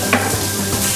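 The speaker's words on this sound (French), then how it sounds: "on va faire suer un peu les oignons pour la purée" Onions sweating in a very hot pan for a purée, a steady close sizzle with a stirring scrape near the start, alone without talk.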